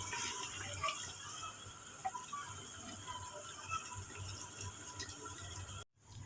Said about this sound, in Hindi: अब इसको यखनी बनाने के लिए हम इसके अंदर पानी ऐड कर देंगे।